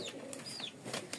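Giribaz pigeons kept in a cage coo softly, a faint, brief pair of throaty calls set against quiet background air.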